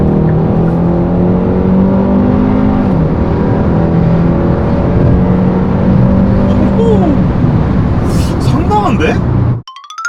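A Hyundai Sonata N Line's engine and sporty exhaust rev loudly and steadily from inside the cabin, the pitch rising and falling through gear changes before cutting off abruptly near the end.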